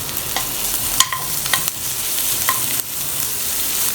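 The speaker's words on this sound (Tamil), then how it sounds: "அதையும் போட்டு நல்ல வெங்காயத்தோடு நல்லா மிக்ஸ் பண்ணி விட்டுறலாம்." Ginger garlic paste stir-fried with onions in a pan while making paneer: a steady sizzle with several sharp scrapes and clicks of a spoon against the pan, close, with no talking.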